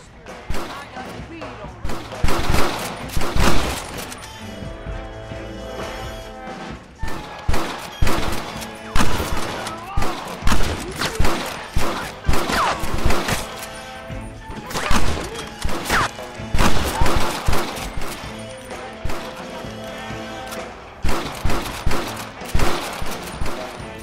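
Rapid bursts of gunfire crack through a Red Dead Redemption 2 shootout, loud and dense with overlapping shots and impacts across the whole stretch, while voices shout over the firing.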